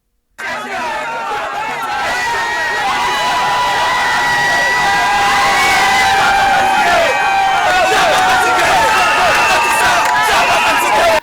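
A large crowd from the Gabonese community in Côte d'Ivoire greets the arriving presidential couple with loud, sustained cheering, shrill calls and excited chatter that swell immediately and hold steady to the end.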